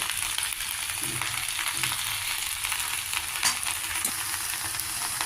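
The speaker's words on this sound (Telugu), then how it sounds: "బాగా మిక్స్ చేసుకోవాలి" Okra in a mustard curry sizzling and frying in a pan while a spoon stirs it, a steady close crackle with scraping strokes throughout, no talking.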